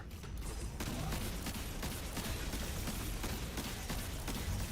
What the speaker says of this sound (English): you can see him really trying to take me down with gunfire.